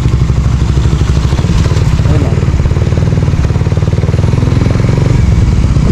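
Suzuki Raider 150 Fi motorcycle with a Vmax standard elbow and kalkal pipe, its engine struggling around 2,000 RPM: loud, close, continuous throbbing exhaust with a steady rapid pulse and uneven, choppy pull.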